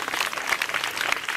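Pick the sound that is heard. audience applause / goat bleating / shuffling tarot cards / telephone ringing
audience applause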